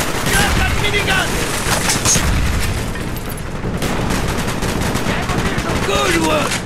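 A minigun in Call of Duty Black Ops fires in loud continuous rattling bursts amid heavy battlefield gunfire and booms, with shouted voices over the din.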